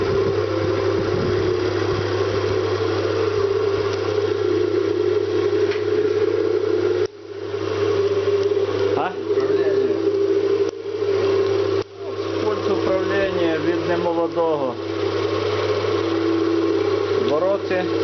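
Electric-driven honey extractor spinning frames of honeycomb, a steady motor hum with a low drone that runs throughout, briefly dipping twice, while people talk over it.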